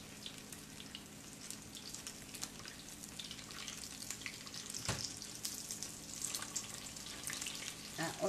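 Borekas dough frying in hot oil, a steady bubbling sizzle with occasional sharper crackles and pops, close and continuous with no talk over it.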